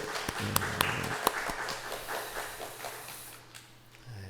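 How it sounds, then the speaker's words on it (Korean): Church congregation clapping for an elder's birthday during a Sunday worship service, a brief scattered round of hand claps in a hall that thins and fades out. "우리 장로님 축하한다고 한번 박수 할까요?"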